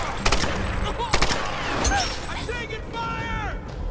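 Gunfire in Tomb Raider (2013) arrives as a few sharp reports around the start and middle, with game sound effects and ambience around them.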